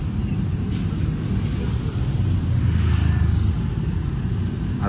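Steady low rumble of heavy traffic jammed on the Padang–Sicincin toll road, a large bus idling and moving close by with continuous engine noise and no speech.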